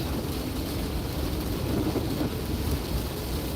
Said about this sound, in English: It is raining heavy.